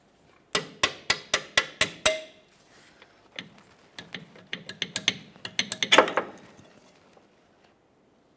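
A wrench works a bolt on the rear lower control arm of a 2002-2009 Chevrolet Trailblazer: six sharp, evenly spaced ratcheting clicks, then a quieter pause and a looser cluster of metallic ticks and scrapes, close and alone.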